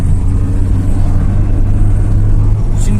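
Steel-chassis Tofaş Şahin car during a speed test, its mid-range engine droning steadily and loudly throughout with a constant low rumble, no talk over it.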